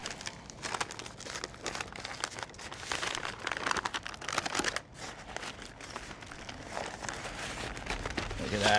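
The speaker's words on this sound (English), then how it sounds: "and just want to wrap it tight" Beef ribs are wrapped tightly in unwaxed butcher paper, with close, fairly quiet crinkling and crumpling in irregular bursts for several seconds and occasional soft rustles in between.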